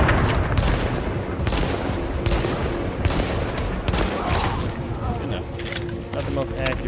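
Rapid bursts of gunfire from the video game The Division ring out continuously, loud and close, with sharp repeated shots layered over dense game noise and a voice talking throughout.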